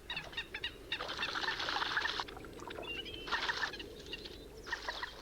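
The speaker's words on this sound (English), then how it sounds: "Mated pairs battle fiercely with rival couples for space." Moorhens, mated pairs battling rival couples over territory in Essex, give harsh, excited squawks and clucking calls in three loud bursts, near and with no talk.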